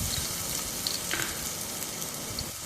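One tablespoon of ginger-garlic paste fries in hot oil for chicken cutlets, giving a steady, close, hissing sizzle with light crackle throughout and no voices.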